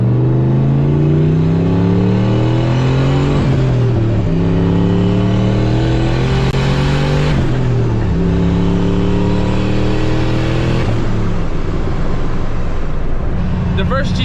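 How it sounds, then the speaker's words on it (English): A Pontiac GTO engine runs loud and close from inside the car, climbing steadily through several gear shifts with a droning, rising pitch and a constant rumble, with faint voices at times. "We're in the GTO. GTO's running awesome."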